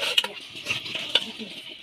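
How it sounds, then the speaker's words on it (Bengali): Biryani being stirred and mixed in a pot: brief scraping and clinking strokes over a soft bed of sizzle, close up and lasting only a moment, no voices. "এটা এখন ভালোভাবে মিশিয়ে নিতে হবে, নেড়ে চেড়ে নিতে হবে"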